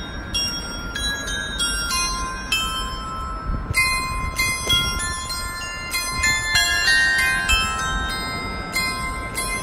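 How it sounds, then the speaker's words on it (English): Several bells in central Cologne ring out in overlapping bright tones, chiming in a tuneful sequence over steady outdoor background noise. "here are the bells now ringing"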